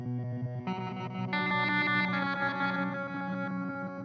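Meris LVX delay pedal at repeat setting six, layering a sustained effected guitar sound that swells into dense echoing repeats with chorus-like shimmer, continuous and fairly loud for about four seconds with no talking.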